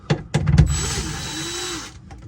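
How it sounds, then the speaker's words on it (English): Two screws being backed out of a Kenmore refrigerator during an intermittent-cooling repair, a close power driver whirring steadily for over a second after a few sharp clicks and knocks, with no talk. "I'll take these 2 screws off."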